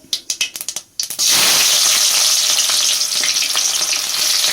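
Onions hitting hot oil in a pan for a mushroom curry, a few sharp clatters at first, then a loud, steady sizzle of frying that fills the rest, with no talking.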